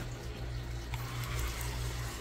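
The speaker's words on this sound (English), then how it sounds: "hopefully rinse off all of my little worm friends" Running water pours steadily while rinsing composting worms in a worm bin, a continuous close wash with no talking.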